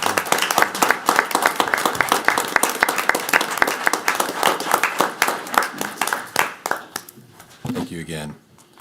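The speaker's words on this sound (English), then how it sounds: "can we give them one more round of applause for their quick?" Sustained applause and clapping from a council chamber audience at a Richmond Common Council meeting, honoring emergency responders, dense and steady for about seven seconds before thinning out as a voice begins speaking near the end.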